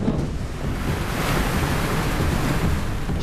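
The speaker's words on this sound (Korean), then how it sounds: "이제 파도 막 넘어." Rough sea waves pounding a fishing boat during shrimp fishing off Dokdo, a loud continuous roar of surf and rushing water with heavy wind buffeting the microphone throughout.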